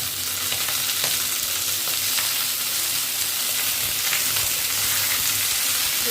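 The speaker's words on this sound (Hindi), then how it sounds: "कुमड़े को डालेंगे। इसे हल्का भून ले रहे हैं।" Pumpkin, potato and pointed gourd fry in oil in a pan, giving a loud, continuous close-up sizzle with faint stirring scrapes throughout.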